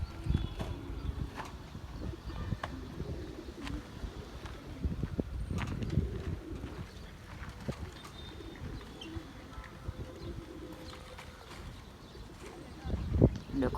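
Pigeons cooing where they perch outdoors, soft low coos repeating through a busy background with scattered knocks and clatter, someone talking at times over them.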